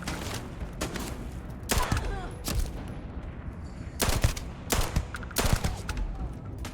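Bursts of pistol gunfire in a space-and-ground battle video game crack out in several separate volleys, loud and sharp against a low game background.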